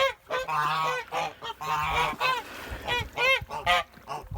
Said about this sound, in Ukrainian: у нас такий от гусячий крик